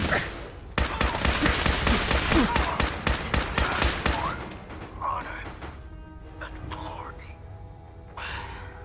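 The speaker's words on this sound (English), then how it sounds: "He's shooting." Rapid gunfire from Elder Maxson in full power armor in Fallout 4, a dense rattling barrage of shots for several seconds, then fading to sparse game sounds with a speaking voice over it.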